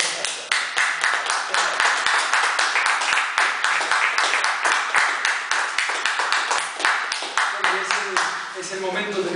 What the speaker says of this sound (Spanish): Pero aplausos.